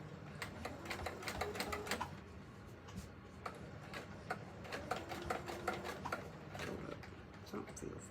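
A home sewing machine stitches around the sides of a pillow, a close, rapid rattling of the needle that runs on with small changes in pace while someone talks over parts of it.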